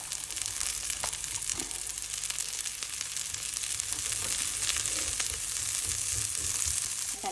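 Onions and vegetables, including green beans and carrots, sautéing in a pan for vegetable soup, giving a steady, close sizzle with faint scraping of stirring throughout.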